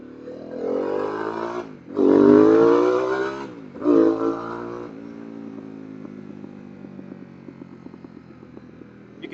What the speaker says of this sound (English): You can hear that deceleration pop on my new exhaust.